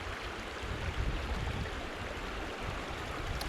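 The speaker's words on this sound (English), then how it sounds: "This is about the best flow that I can get on this river right now." River water flowing through a gold sluice in the Adirondacks, a steady broadband rushing wash that holds even and fairly faint throughout without any speech.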